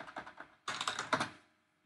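A computer keyboard clatters as a terminal command is typed, a short quick burst of keystrokes close by, then a denser flurry before quiet.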